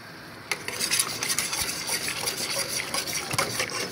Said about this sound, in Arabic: نخلطوا حتى تعقد